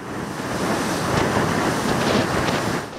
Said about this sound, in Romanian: E destul de rece pe litoral, iar vântul spulberă nisipul.